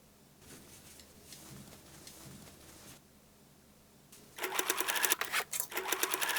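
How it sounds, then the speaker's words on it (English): A sewing machine top stitching the top edge of a shoulder bag made from old denim jeans, starting with quiet handling and then a loud, fast rhythmic clatter of stitching with brief pauses. "Flatten and top stitch top edge of bag."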